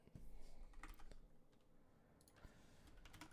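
Keys clatter on a computer keyboard in quick irregular bursts, soft and close, with short pauses between runs of typing.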